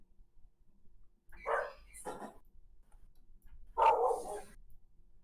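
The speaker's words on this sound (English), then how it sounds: "Ambient dog noises. Yeah, she's outside." A dog barks outside, a few separate bursts around the middle and end of the short stretch, faint and somewhat distant with quiet gaps between.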